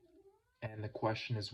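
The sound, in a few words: cat meowing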